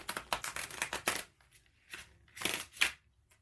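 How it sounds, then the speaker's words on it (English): Rapid riffling of a deck of cards being shuffled, a quick burst of crisp flutters followed by a pause and a shorter second burst, close up. "Oh, we gotta do that again. That was a bad shuffle."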